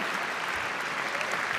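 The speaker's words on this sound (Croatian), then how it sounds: "jedan veliki aplauz za njih" A music awards ceremony audience gives sustained, dense applause for the producers of a jazz album, a steady wash of clapping with no voices over it.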